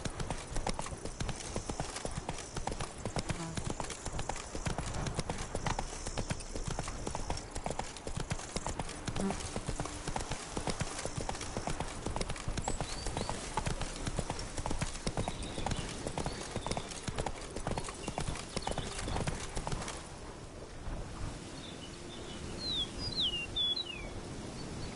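In The Witcher 3, the horse Roach gallops at length, dense rhythmic hoofbeats steady and close; near the end the pounding eases to a lighter trot while faint bird chirps appear.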